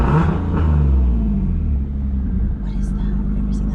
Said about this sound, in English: So this exhaust is actually a valve controlled, right? I'll show you. So this is what it sounds like open,